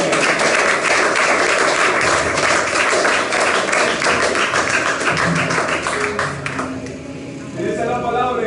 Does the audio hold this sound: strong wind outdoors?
no